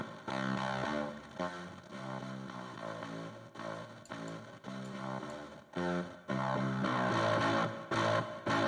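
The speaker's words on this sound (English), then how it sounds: "Giving a funky distortion." A synthesizer run through a funky distortion effect in a Bitwig FX grid, producing gritty, fuzzy, bass-guitar-like notes in a continuous rhythmic line with brief pauses.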